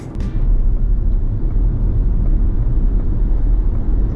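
Low, steady simulated drive hum from an electric car, with a deep rumble filling the cabin, continuous and loud, with no speech.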